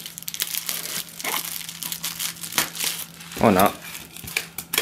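Plastic packaging around a Bachmann Fowler 3F Jinty tank engine model crinkles and crunches in close, irregular bursts, with one louder crackle near the end, under occasional speech.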